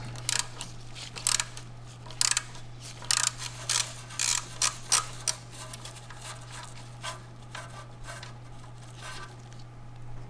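A hand wrench works the 13 mm nuts off the AC compressor lines of a Dodge Grand Caravan, giving bursts of close, crisp ratcheting clicks in short rhythmic runs separated by pauses, with no talking.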